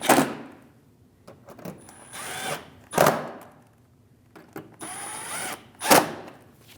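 A power tool snugs down fender liner and bumper cover bolts on a 2016-2025 Chevrolet Malibu 1.5L. Several short whirring bursts ramp up and cut off in turn, each ending in a sharp clack, close and fairly loud.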